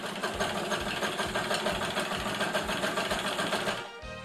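A Necchi BF Nova sewing machine runs steadily as it stitches through six layers of vinyl, a close, loud rapid mechanical chatter of needle and motor that continues without pause before easing off at the very end.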